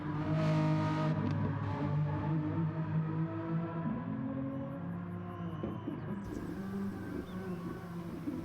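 A Renault Clio Cup race car engine from a racing video game revs with a steady harmonic drone that rises and falls through gear changes, moderately close, with no talking.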